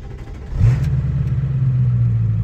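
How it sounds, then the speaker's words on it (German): A diesel car in Canada cranks and catches, then settles into a loud, close, throaty rumble that holds steadily through the rest of the moment. "Ja, und jetzt einmal den Motor starten."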